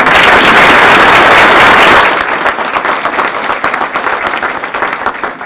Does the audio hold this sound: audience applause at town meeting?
yes